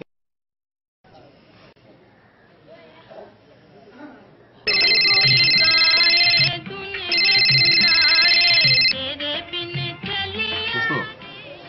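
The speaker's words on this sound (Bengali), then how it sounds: "শামসুরে ফোন লাগা" A telephone rings out loud in a repeating electronic ringtone pattern after a call is placed in a Bangla telefilm, preceded by quieter background sounds and continuing in bursts over several seconds.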